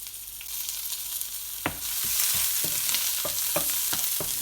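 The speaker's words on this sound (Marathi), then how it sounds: "कांदा फ्राय करून घ्यायचा।" Chopped onion frying in a little oil in a pan for soya chunks curry starts quiet, then the sizzle rises. Sharp knocks and scrapes of a spatula come every half second or so.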